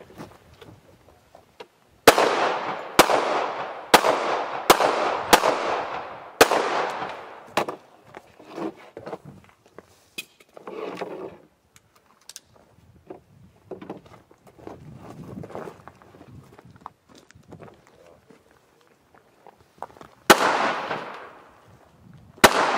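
Pistol shots at an IDPA shooting match ring out loud and sharp in a quick string of about seven near blasts, followed by quieter shuffling and movement, then two more loud shots near the end.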